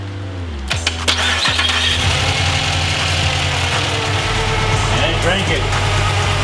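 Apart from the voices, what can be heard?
Pontiac Grand Prix GXP 5.3 V8 engine starting and idling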